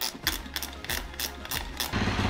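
KTM 350 SXF dirt bike engine running to warm up for an oil change, a close, uneven putter with bursts of revving and repeated mechanical clatter.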